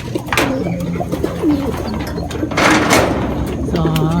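Racing pigeons cooing at their loft after a training flight in Bocaue, with soft repeated coos, a loud burst of wing flaps and a light door-like clatter nearby.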